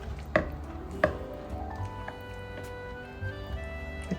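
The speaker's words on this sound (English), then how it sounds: "So I just go around the bowl gently and just break up the tomatoes." Soft home-grown cooked tomatoes broken up gently in a bowl with a utensil: faint squishing under a low room hum, with two sharp knocks against the bowl early on and lighter taps later.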